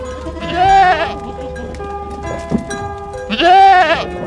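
A goat bleats loudly and close by in two long, wavering calls with a quieter bleat between them, set against a faint background hum; no talking.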